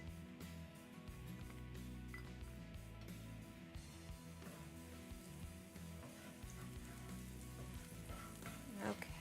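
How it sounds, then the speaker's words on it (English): French toast slices frying in butter on a skillet, a continuous crackling sizzle with low background hum, fairly soft and steady throughout. "I'm gonna put my remaining pieces surrounding it on the skillet"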